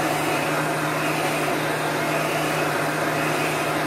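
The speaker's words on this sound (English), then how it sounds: "I'm constantly moving the heat gun so it doesn't burn the paint." Heat gun blowing steadily as it dries chalk paste on a craft stencil project, a continuous loud whooshing airflow hum with a faint tonal drone underneath, unbroken throughout.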